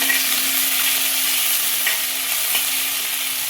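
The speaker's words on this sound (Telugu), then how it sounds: "పచ్చిమిర్చి మంచిగా వేగనిద్దాము" Green chilies fry in hot oil for a fried rice tempering, giving a steady close sizzle with faint stirring, no voices.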